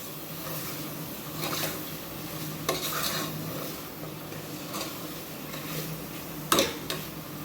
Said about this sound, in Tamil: நல்லா இந்த மட்டனோடு சேர்த்து நல்லா மிக்ஸ் பண்ணி விட்டுடலாம்